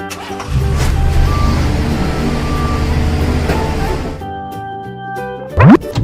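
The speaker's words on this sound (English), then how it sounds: "Green garbage truck." A green toy garbage truck gives off a loud, steady rumbling engine noise with a faint tonal whine on top, close up, cutting off near the end with a brief rising swoop.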